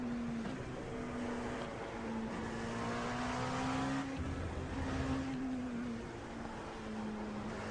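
A race car engine in iRacing at Sebring holds a steady, loud drone, with slight pitch shifts as the car lifts and reapplies throttle through corners.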